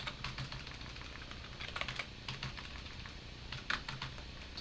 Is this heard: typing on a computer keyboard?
yes